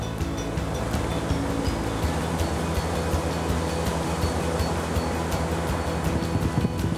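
Ocean waves break at the Wilderness surf spot on South Africa's Garden Route, making a continuous, fairly distant wash of surf mixed with wind noise and no voices.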